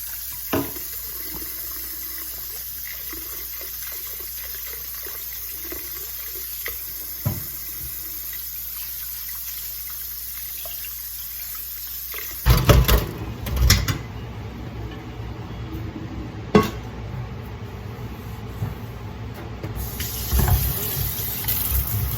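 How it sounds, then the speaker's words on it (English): Water runs from a tap to fill a big pot before heating beets on the stove, a steady hiss that turns fuller and splashier midway, with a few clunks of the pot and handling. "I'm going to fill a big pot with water and start heating on the stove"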